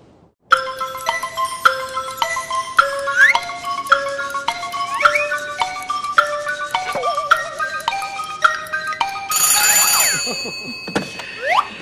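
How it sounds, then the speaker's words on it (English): A telephone rings with electronic tones chiming in a steady repeating melody, loud and close, ending with a brief flurry of higher trills. "That phone is gonna start ringing any minute."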